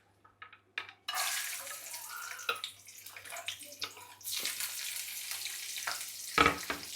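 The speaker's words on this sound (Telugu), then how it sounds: "ఇప్పుడు జీడిపప్పు కూడా ఒక వేపు వేపేసుకుందాం." Cashew nuts fry in a pan of oil for a Konaseema-style egg dum biryani: a steady, fairly close sizzle that starts after a second, with a few short scrapes and clinks as they are stirred.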